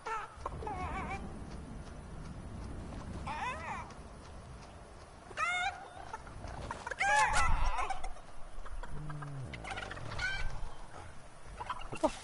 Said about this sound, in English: Freaking pigs I hear? They're making weird noises.